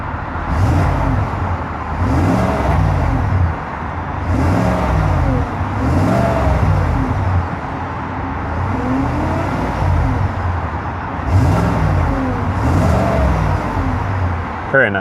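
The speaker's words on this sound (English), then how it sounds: "I was gonna give it a couple of revs." A 2018 GMC Yukon Denali engine is revved repeatedly, about six rising and falling surges close by, with a steady idle rumble between the blips.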